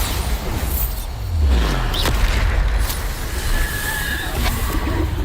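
A Bombarda explosion spell from a Harry Potter video game goes off as a deep, loud boom with a rumbling low swell, followed by scattered game effects and debris-like noise.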